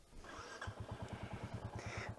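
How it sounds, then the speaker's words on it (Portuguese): Royal Enfield Classic 350 Dark Stealth 2023, a roughly 195 kg single-cylinder motorcycle, idles and runs with a steady, loud, low thumping pulse and fast regular beats that hold throughout, with no talk over it. "olha que interessante esse ronco aqui, esse som do motor. É um monocilindro"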